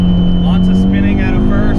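An Abarth car holds its engine near 3,500 RPM before launching on a drag pass, a loud, close, steady droning hum with a rising tone through the short burst.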